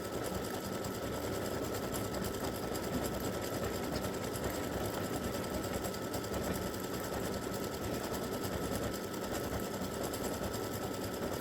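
An embroidery machine stitches a freestanding lace bee earring, a continuous rapid mechanical chatter running steadily and close throughout, with no voices.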